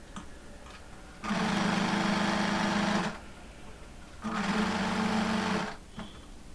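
Sewing machine running in two sustained bursts while stitching the yoke of a pleated front-open nightie along the pleat line, a steady close whirring hum with a pause between runs and no talk.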